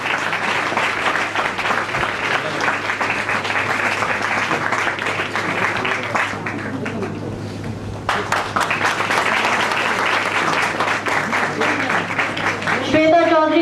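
Sustained audience applause fills a hall at a National Voters Day ceremony, dense and continuous clapping with a brief dip midway before surging again, a voice starting at the very end.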